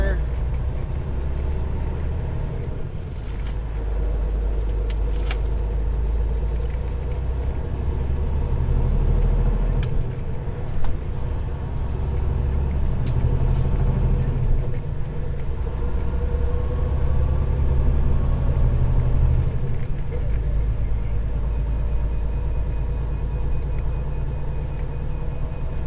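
Trucks idle at a truck stop on a chilly night, a low steady diesel rumble filling the background, with a few faint clicks and someone talking now and then over it.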